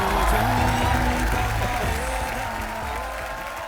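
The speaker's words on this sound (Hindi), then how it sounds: "तो एक बार ऋतिक भाई के डांस के लिए जोरदार तालियां हो जाए।" A studio audience applauds after Hrithik Roshan's dance on a comedy talk show, a loud, steady wash of clapping over music that fades slightly toward the end.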